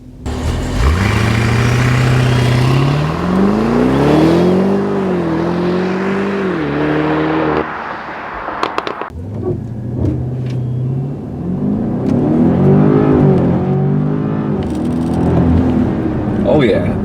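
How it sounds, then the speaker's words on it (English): A 2015 BMW Alpina B6 Gran Coupe with all-wheel drive launches from a standstill on a racetrack. Its engine rumbles and climbs hard through rising revs, eases briefly at a gear change, then pulls again close up under occasional talk. "Let's do 0 to 60, see what the performance is like."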